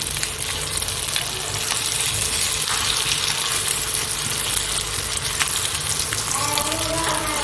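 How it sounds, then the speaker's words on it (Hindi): Chicken shami kababs fry in a pan with a steady, dense sizzle of hot oil that holds evenly throughout, close and fairly loud, with a few faint clinks near the end. "ये तो ये कबाब हमारे फ्राई हो चुके हैं"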